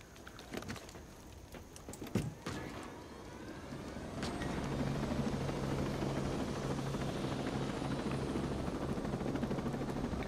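A helicopter in Ghost Recon Breakpoint spins up from quieter ambience into a steady, loud rotor and engine drone that holds continuously for several seconds.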